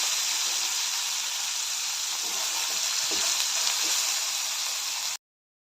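Onion and tomato frying with salt in a pan, a steady close hiss of sizzling with a few soft stirring knocks, continuous until it stops abruptly.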